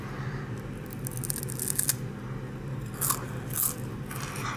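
Biting and crunching into a baked Kit Kat wafer bar, close up: a few crisp, brittle crunches and bites in clusters over a quiet room background, with no talking.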